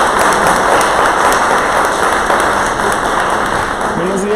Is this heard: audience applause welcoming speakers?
yes